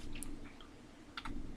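Typing on a computer keyboard while hunting for a key, heard as faint scattered clicks in short clusters near the start, middle and end over a steady low room hum.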